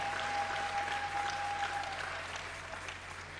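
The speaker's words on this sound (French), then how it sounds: "Applaudis très bien le Seigneur des Seigneurs." Congregation applause fills a church deliverance service, steady sustained clapping from a crowd throughout, moderately loud and fairly even, with a faint tone held in the background.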